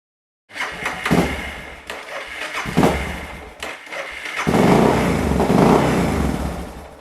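Suzuki DR650 motorcycle engine with performance mods starting up and running, a loud throbbing low rumble that rises and dips unevenly before settling into a fuller, steadier roar.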